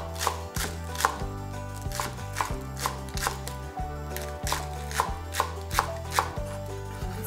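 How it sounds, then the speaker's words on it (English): A knife slices through the tops of three green onions on a cutting board, a close, steady run of crisp chops about every half second with no one talking. "We have the tops from our 3 green onions, and I'm gonna slice these."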